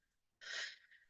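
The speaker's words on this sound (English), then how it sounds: "And you might hear my puppy Maya snore or" A puppy takes a single short, soft snort-like breath, very faint and close, then a quiet wheezy tail in an otherwise silent room.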